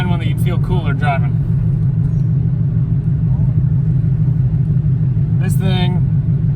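A TVR S2 sports car engine rumbles steadily at a low, throaty idle, with someone talking briefly at the start and near the end.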